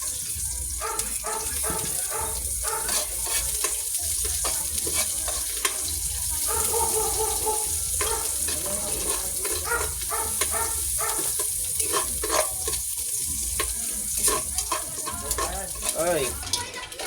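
Onions sizzling and frying in a pan for a mussel dish, a steady hiss broken by scraping stirs and clinks of the utensil, with a voice speaking over it in places.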